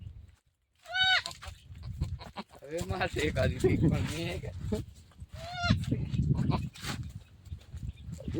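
Goats bleat several times, near and loud, while people talk over them.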